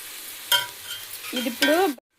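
Ginger garlic paste frying in hot oil for a broad bean curry, with short bursts of sizzling and stirring, a louder spell near the end before it cuts to silence.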